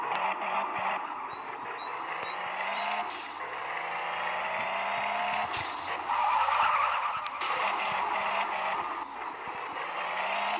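A car drifts and skids, tires squealing in long sweeping tones over a revving engine, continuous and fairly close throughout, with no talk.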